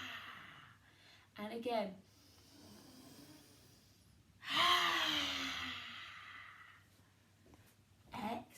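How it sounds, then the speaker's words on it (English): Deep yoga fire breaths taken during a children's story-time yoga session, with two short audible inhales or exhales and one longer, stronger breath in the middle, while an adult voice speaks briefly. "You're going to breathe in."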